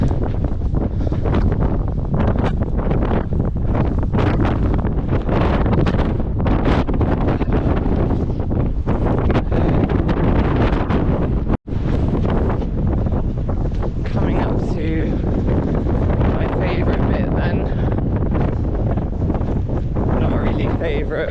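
Strong coastal wind batters a microphone on a long run along the coast, making loud constant rumbling buffeting with a brief dropout midway and no clear speech.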